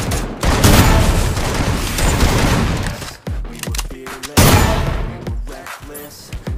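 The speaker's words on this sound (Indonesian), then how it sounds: "di sini aku contohin pakai shotgun" Shotgun blasts in the Free Fire battle game, loud and close, arriving as dense bursts of fire with a brief gap in the middle, followed by sharp single reports and mechanical clacks, with no talk over them.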